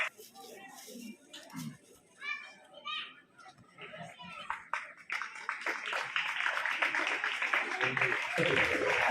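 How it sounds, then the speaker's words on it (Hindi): Children's voices and chatter at a government school Republic Day celebration give way to loud, sustained clapping from the gathered crowd welcoming guests, growing denser over the last few seconds. "जोरदार तालियों से स्वागत किया जाए।"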